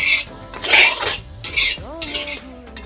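Mixed vegetables with potato and bitter gourd are stirred and dry-fried in a pan without oil, giving scraping utensil strokes in bursts with a soft sizzle, while someone speaks over the cooking.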